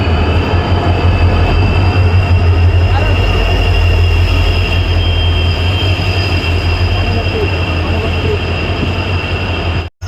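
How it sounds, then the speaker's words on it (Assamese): A passenger train arrives at Dharmatul station, giving a loud, continuous close rumble of wheels and carriages with a steady low hum and faint high whine, unbroken until a sudden cut at the very end. "আমি যাবলগীয়া ট্ৰেইন আহি পাইছেহি ফাইনেলি।"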